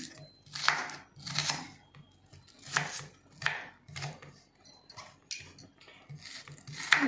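A knife chops onion and green chilies on a board at home while banana-flower vadai is prepared: a series of sharp, close chopping strokes in an uneven rhythm, fairly quiet, with brief pauses between bursts.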